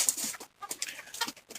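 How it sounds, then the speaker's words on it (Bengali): Black Australorp chickens kept for egg production cluck and call in short, irregular bursts, fairly close and moderately loud, with brief pauses between calls. "এখানে মোরগ অর্থাৎ মেল এবং ফিমেল সবই আপনার ব্ল্যাক অস্ট্রালপ"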